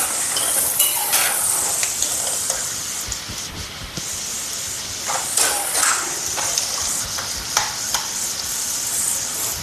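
Continuous sizzling of food frying in a pan for an avalakki snack, a steady close hiss with scattered crackles and occasional scraping stirs throughout.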